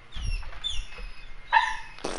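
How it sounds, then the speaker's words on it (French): A small dog yapping and whimpering in a few short, close bursts amid quiet background noise. "arrête de japper"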